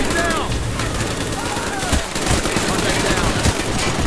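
Chaotic gunfire fills a Call of Duty Black Ops battle, overlapping shots and bursts rattling continuously with louder cracks around the midpoint, fairly close and loud.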